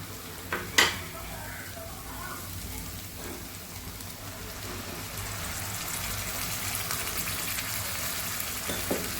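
Tomato onion paste for a paneer curry hits a hot pan with a brief clatter, then settles into a steady, soft frying hiss that continues alone at moderate volume.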